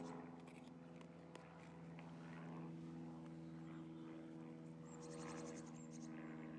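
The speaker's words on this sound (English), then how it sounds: "That's the old tow plane I can hear there." A propeller glider tow plane drones steadily at a distance, a low sustained hum, with faint bird chirps and rustling nearby.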